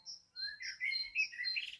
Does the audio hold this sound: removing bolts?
no